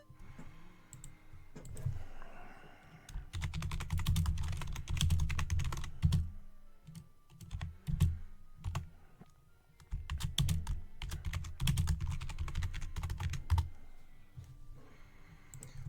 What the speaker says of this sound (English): Prepare to hear a lot of typing